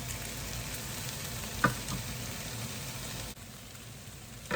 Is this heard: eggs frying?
yes